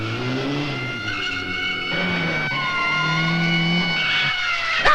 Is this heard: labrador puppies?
no